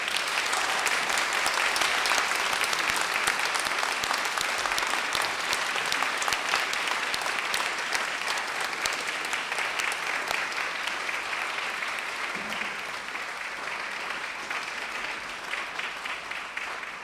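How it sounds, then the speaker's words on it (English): A large audience at a university graduation ceremony applauding steadily for a long stretch, dense continuous clapping that slowly tapers off. "give them an enormous round of applause"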